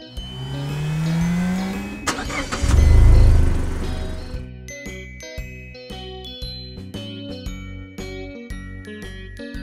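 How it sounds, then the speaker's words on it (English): A monster truck engine revs in a loud, rough roar across the first few seconds, with a deep rumbling peak in the middle, then gives way to tinkling, jingly tones for the rest. "Monster truck."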